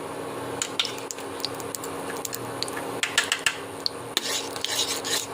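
Utensils clink and scrape against a wok on an induction cooker as ghee heats, with light irregular metallic taps and faint sizzle over a quiet kitchen background.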